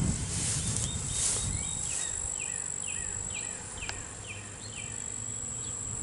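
Honeybees around a hive on a small farm, a steady faint buzzing drone with bees passing close by, alongside repeated chirping from insects or birds in the background.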